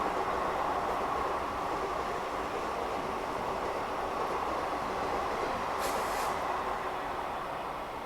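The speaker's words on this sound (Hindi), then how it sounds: "स्पेशल ट्रेन थी और क्या बढ़िया भागी यहाँ से" A special express train pulls away from a station in India with a steady rumble of wheels and carriages at moderate distance and a brief hiss partway through, with no talk over it.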